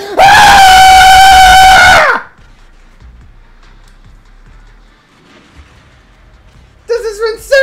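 A person screams in frustration, a loud, sustained, piercing shriek lasting about two seconds, followed by quiet and then a brief shout at the end.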